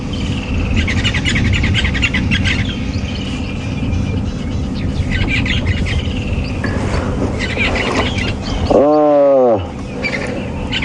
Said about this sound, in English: Lots of also bird song here, singing out, woodlands kingfishers, red-billed buffalo weavers above us.